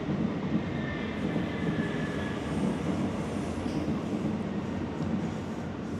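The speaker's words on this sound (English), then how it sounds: "Train." A train rumbles past nearby a beach hotel in Santa Susanna, Costa Brava, Spain, a steady loud low roar with clattering wheels that holds for several seconds, no voices over it.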